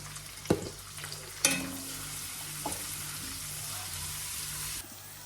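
Spices with asafoetida roasting in a pan while being stirred, a quiet steady sizzle with a few clinks of the spoon against the pan near the start, cutting off near the end.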